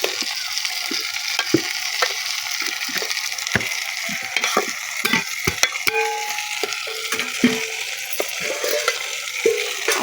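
Mutton curry cooks in a pot, a constant bubbling sizzle with frequent clicks and scrapes of a spoon stirring the pieces, close and fairly loud, with no talking.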